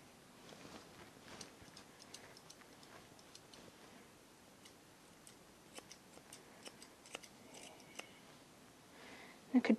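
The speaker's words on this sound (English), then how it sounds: "I could tell that my scissors are getting quite blunt" Scissors trim a Shih Tzu's fur in a quiet grooming setting, producing a string of faint, crisp snips at irregular intervals, close up, with a few louder clicks near the end.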